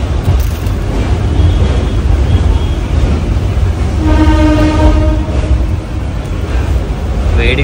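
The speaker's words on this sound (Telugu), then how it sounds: "మనకి డబల్ డెక్కర్ ట్రైన్ చూసుకోవచ్చు" A double decker train rolls into Vijayawada Junction, a steady loud rumble of wheels and carriages with a sustained horn-like tone rising midway, close and continuous throughout.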